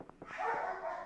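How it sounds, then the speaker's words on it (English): Several dogs barking from inside a house, heard while a Tarkov match runs, a few short yips at the start giving way to a sustained, fairly loud barking clamor with no talk over it. "dogs are going crazy"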